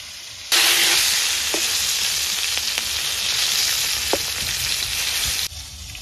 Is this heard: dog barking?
no